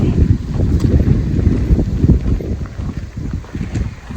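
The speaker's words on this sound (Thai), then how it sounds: "ลมพัดเย็นสบาย" Wind rushes steadily through a mountain forest along a narrow hiking trail, a loud, continuous low roar with gusty buffeting against the microphone.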